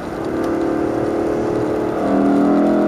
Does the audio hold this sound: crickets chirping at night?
no